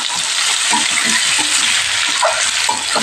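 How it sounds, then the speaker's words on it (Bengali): Sliced onions and potatoes fry in hot oil with a steady, loud sizzle throughout, broken by repeated scraping stirs of a spatula against the pan. "এবারে আলু আর পেঁয়াজটা একসাথেই ভেজে নিতে হবে।"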